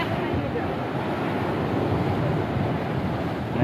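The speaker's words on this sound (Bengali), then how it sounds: "এখন কিন্তু আসলে বড় বড় ঢেউ তৈরি হচ্ছে" Continuous roar of large Atlantic ocean waves breaking nearby at Praia da Ursa near Cabo da Roca, Portugal, mixed with heavy wind buffeting the microphone.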